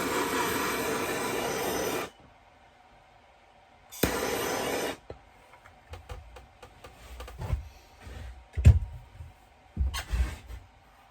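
Torch flame scorching the sanded edge of a glued wooden serving tray: two loud, steady roaring blasts of about two seconds each, followed by scattered close clicks and low thumps.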